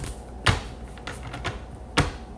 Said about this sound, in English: I'm just trying to make sure that I get a good shuffle here.